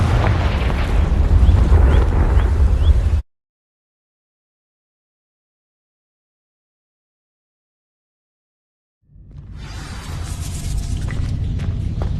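Confringo fire spell bursting in Hogwarts Legacy, a loud booming blast with crackling roar that cuts off abruptly, followed by several seconds of silence before a rumbling fiery burst swells back in.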